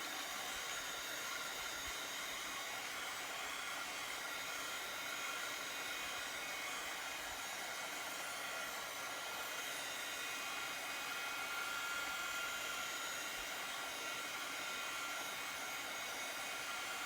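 A handheld electric heat dryer blows continuously while drying chalk paste on a bandana wreath, a steady close whooshing hiss with no breaks and no voices.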